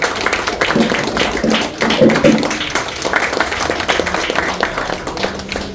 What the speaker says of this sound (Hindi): तालियां बजती रहनी चाहिए सब लोग।